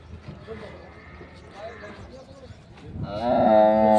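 A bull at the Erragadda Sunday cattle market lets out a loud, drawn-out low near the end, following a stretch of faint market bustle and distant voices.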